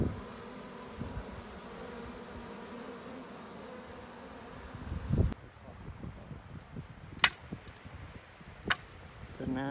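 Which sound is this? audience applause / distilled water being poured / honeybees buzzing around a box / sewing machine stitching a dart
honeybees buzzing around a box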